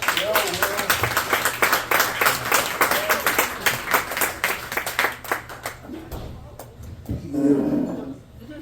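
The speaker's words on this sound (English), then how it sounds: "Everyone, give a nice round of applause for Will Frank." Loud audience applause at a comedy set fills the room with dense, sustained clapping that gradually thins out and fades, followed by a brief cheer near the end.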